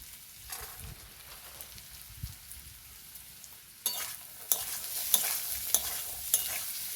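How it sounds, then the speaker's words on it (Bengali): Green peas are stir-fried and tossed in a pan for a Bengali carrot and fenugreek-leaf curry, with quiet scraping and stirring that gives way to a brighter, louder sizzle and repeated clacks of the spatula. "মটরশুঁটিটাকে একইভাবে নাড়াচাড়া করে ভেজে নেব।"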